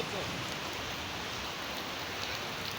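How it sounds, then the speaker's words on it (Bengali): Heavy rain falling outside, a dense, even hiss of steady downpour with no let-up, moderately loud and close. "আজকে আমাদের বাহিরে বৃষ্টি আছে গাইস। দেখছেন অনেক বৃষ্টি"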